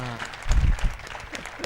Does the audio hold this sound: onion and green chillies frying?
no